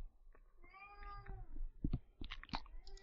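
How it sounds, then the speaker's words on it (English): Cat meowing indoors in a few drawn-out, rising and falling calls, followed by faint clicking and chewing-like sounds, fairly close but not loud. "Can you hear him meowing?"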